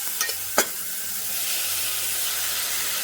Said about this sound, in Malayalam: ഇനി നമുക്കിതിലേക്ക് പ്രോൺസ് ആഡ് ചെയ്യാം